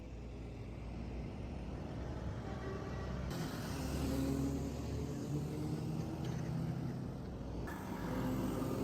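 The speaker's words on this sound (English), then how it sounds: "the rhythmic hum of diesel engines fills the air as the trucks advance slowly but steadily" Diesel engines of heavy trucks moving in a slow convoy, a steady low rumble and hum that rises and falls slightly as the vehicles pass, heard alone without speech.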